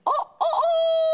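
A rooster crows once, loud and close, in two short rising syllables and then a long sustained final note, with no other sound around it.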